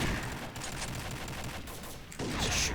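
Continuous distant gunfire and battle noise in the online shooter Combat Arms, a dense, fairly quiet wash of overlapping shots with no clear pauses.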